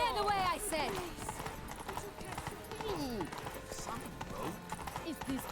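Hooves of Roach, the horse in The Witcher 3: Wild Hunt Blood and Wine, clip-clop in a running rhythm through town while a voice talks over the top and background game sounds fill in.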